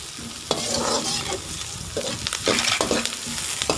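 Onions and green chillies fry in a pan for chicken macaroni, a loud, close sizzle punctuated by repeated scraping stirs of a spoon.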